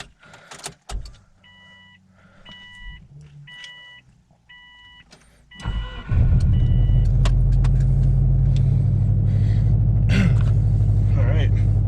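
A car's engine cold starts after several dashboard chimes and an electric whir, cranking briefly then settling into a loud, close, steady idle rumble that continues to the end, with someone talking briefly.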